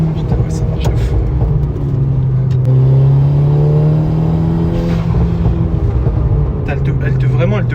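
A Volkswagen Golf 6 GTI Stage 2 engine revs hard and loud up close, its rising drone sustained for several seconds, with brief voices near the end.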